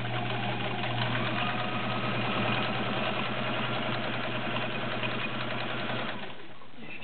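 A vintage Kenmore Model 1601 sewing machine runs a straight stitch through a basic piece of fabric, its motor humming steadily up close with a rapid, even needle patter that eases off near the end.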